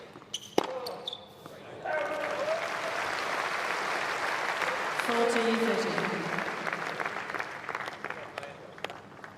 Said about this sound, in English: So when it comes to cheering, those two are going to be tough to beat, Millman and Hewitt.